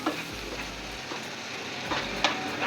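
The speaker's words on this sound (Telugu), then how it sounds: "బాగా మిక్స్ చేసుకోవాలండి" Egg bhurji fries and sizzles in a pan while a spoon stirs it, a steady close crackle broken by a few scraping strokes, with no talking.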